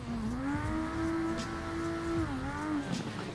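A car in Assetto Corsa slides through a big turn with the clutch in, its engine note holding a steady whine that dips and rises, over tyre scrub and a constant whir, with no voices.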